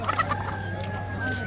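Brahma chickens and a rooster clucking steadily at a busy Baghdad animal market, close and moderately loud over a constant low mechanical hum and crowd murmur.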